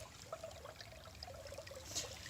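Water from a gravity-fed supply flows downhill through a pipe that drives a pump running without electricity, giving a faint, steady trickling wash with small splashy flickers throughout.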